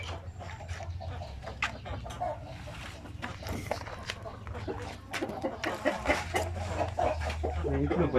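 Native chickens in a breeding pen cluck and squawk in scattered bursts close by, with a person speaking intermittently and a dog barking faintly among the birds.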